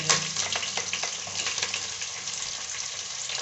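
Steady sizzling of onions frying in hot oil for quail biryani, with continuous crackling at a close, even level and no voices.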